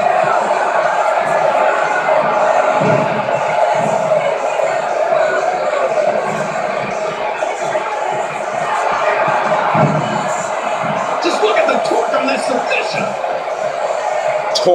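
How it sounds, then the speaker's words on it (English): A virtual arena crowd in the Def Jam 2K17 wrestling game roars and cheers continuously for the whole stretch, a dense loud wash of voices with occasional shouts rising out of it. "by the sounds of it, this crowd is ready for anything that happens tonight"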